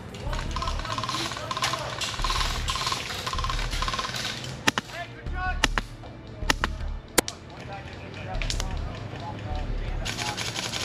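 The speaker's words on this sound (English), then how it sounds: "There's one popping shots my way." Airsoft HPA guns fire during a gameplay match, several sharp, isolated pops scattered a second or so apart over a steady outdoor rumble with some talking.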